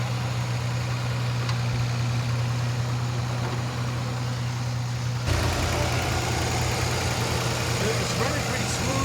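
A 1960 Austin-Healey 3000 with a three-litre straight-six idles steadily and smoothly nearby, a continuous low engine hum running through the whole stretch with a slight shift in tone midway.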